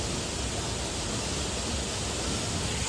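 Roaring rush of heavy water at the hidden Dhangar waterfall near Badlapur, about 80 feet high, running at high pressure; a steady, dense broadband wash that fills the clip without pause and with no voices over it.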